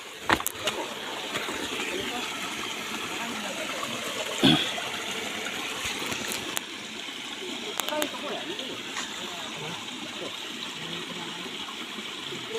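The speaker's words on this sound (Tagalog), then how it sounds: "Ganda ng hagos po ng tubig dito." A steady rush of flowing water runs throughout, with a few brief knocks and splashes breaking through the constant stream.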